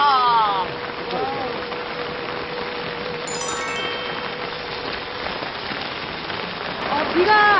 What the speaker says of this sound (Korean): 비가 아까 오전부터 계속 왔었어요